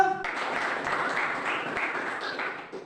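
A group of teacher-training participants in an Indonesian university session applauds a presenter, with steady, moderately loud clapping that continues for several seconds after a brief opening sound.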